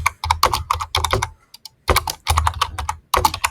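Fast typing of a message on a computer keyboard, close and crisp, in clustered bursts of keystrokes broken by a couple of brief pauses.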